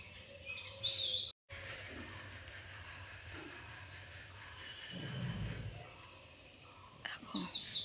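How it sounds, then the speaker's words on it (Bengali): Birds chirp in quick, repeated high-pitched phrases outdoors in the morning, a lively chorus continuing throughout over soft background noise. "পাখির আওয়াজগুলো কত সুন্দর লাগছে"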